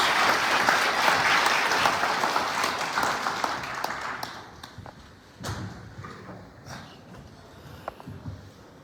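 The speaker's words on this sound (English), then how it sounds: "A round of applause, please" An audience applauds to welcome the President of Sierra Leone at a forum in Brussels. The clapping is loud and dense at first, then thins out after a few seconds into scattered claps and faint room noise.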